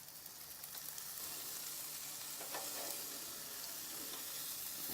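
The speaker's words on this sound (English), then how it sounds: "time to flip the fish. So again, I like to use 2 spatulas." Jerk fish sizzles and fries steadily in a pan, a loud continuous crackle with faint scrapes as two spatulas work underneath to turn the fillets.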